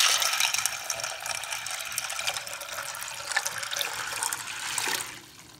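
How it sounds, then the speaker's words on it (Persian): Water pours from a tap onto soaking chickpeas in a bowl, a close, continuous splashing and trickling with rattly clicks that cuts off near the end. "حالا روش آب میریزم"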